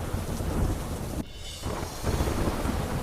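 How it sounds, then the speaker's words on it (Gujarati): Heavy rain pours steadily in Mangaluru, Karnataka, with a loud roll of thunder rumbling through the downpour. The rain briefly thins before surging back to a dense, close hiss. "કર્ણાટકના માંગરુળુમાં ધોધમાર વરસાદ ખાબક્યો."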